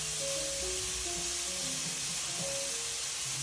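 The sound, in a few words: steak sizzling in a pan after being flipped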